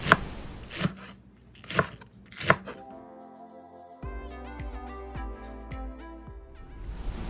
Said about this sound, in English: 6 green onions. លឹកខ្ទឹម6ដើម Cut into slices.